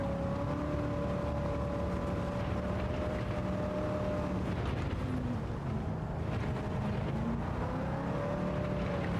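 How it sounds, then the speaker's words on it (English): The rear tires of a '70 Plymouth Superbird squeal in a racing video game, a sustained, wavering whine layered over a loud, constant engine roar with no pauses. "You hear those rear tires squealing"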